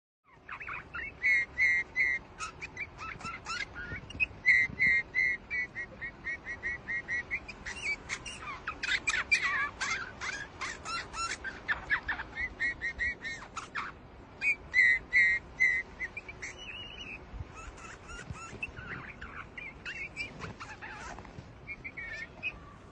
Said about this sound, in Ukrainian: послухайте, як співає снігур